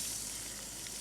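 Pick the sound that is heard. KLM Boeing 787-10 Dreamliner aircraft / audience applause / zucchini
zucchini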